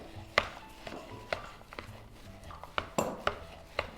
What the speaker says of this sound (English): Just gonna mix it up.